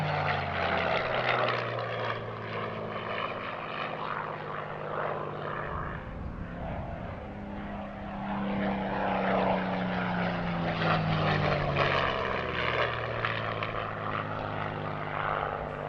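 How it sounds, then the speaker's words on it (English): A Supermarine Spitfire LF.IX piston-engined propeller fighter flies at an airshow, its engine a loud continuous drone that swells and shifts in pitch as it passes, with no talk over it. "the Battle of Britain Memorial Flight Spitfire LF.IX"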